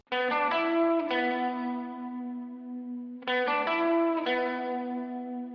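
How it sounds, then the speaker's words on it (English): A mid-register electric guitar part for a pop country track, with chorus and echo effects: strummed chords ring out in two phrases with a short gap, each phrase of quick repeated strikes that then sustain and fade. "I tracked a mid guitar part, which sounds like this"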